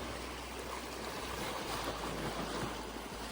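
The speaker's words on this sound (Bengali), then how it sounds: "আমি জলের সাউন্ডটাকে মিউট করিনি, কারণ এটা শুনতে সত্যি খুব ভালো লাগছে। জলগুলো এসে পাড়ে এসে আছড়ে আছড়ে পড়ছে" Lake water laps and breaks on the shore in California, a steady close rush of surf and splashing that fills the scene at an even level, with no voices.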